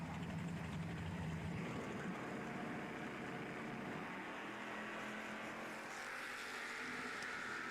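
A steady, loud engine roar from drag racing cars, a Dodge Avenger and an Oldsmobile Cutlass at a door car challenge, heard at a distance as a continuous droning rumble without speech.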